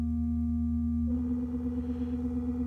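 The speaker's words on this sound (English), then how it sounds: "This is all feedback now." Buchla 296e synthesizer feedback producing a sustained steady tone that shifts character about a second in, growing a fuller, slowly wavering hum.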